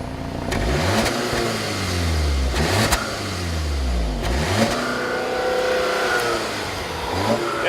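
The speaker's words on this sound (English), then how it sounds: "It's like a magical puff of little exhaust note." A 2015 Audi A3 with a 2-liter engine accelerates with a fairly quiet exhaust note, its pitch rising and falling through several gear changes, heard steadily at moderate loudness.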